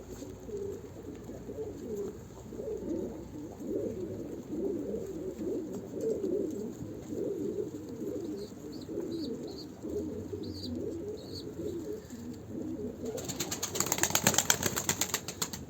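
Pigeons coo steadily in low, rolling murmurs for a long stretch. Near the end, a burst of louder rustling suggests wings flapping.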